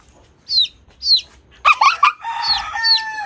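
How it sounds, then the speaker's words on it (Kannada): Several roosters on a garden farm plot crow and call: two short raspy calls, then louder overlapping crows near the end, close by with no talking. "ಎಲ್ಲ ಹುಂಜಗಳೇ"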